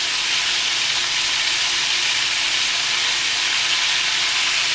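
Squid legs frying in hot oil give a loud, steady, dense sizzle and hiss that holds without a break, close up and with no voices over it.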